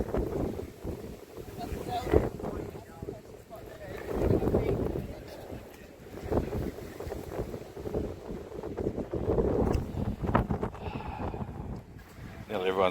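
Gusty wind buffets the microphone outdoors on a walking course, a steady low rumble that swells and fades in waves, with a voice talking over it.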